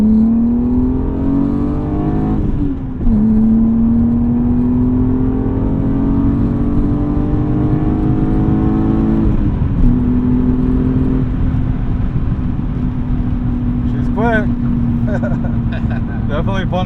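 A 1998 BMW M3 E36 accelerates hard from inside the cabin, its engine note climbing steadily through the gears with clear pauses at each shift, loud and continuous, while a person talks over it.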